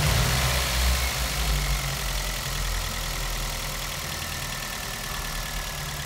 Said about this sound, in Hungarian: hallgassátok meg a motor hangját